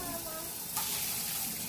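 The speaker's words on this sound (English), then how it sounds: "So I'm going to fill up my coffee cup here." Water streams from a Sboly single-serve coffee maker into a coffee cup, a short, faint trickle that rises into a brighter splashing pour partway through, heard close up with no talking.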